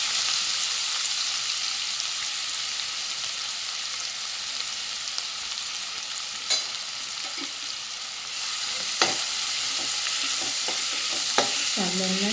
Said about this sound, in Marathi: कांद्यांना छानपैकी भाजूया आता.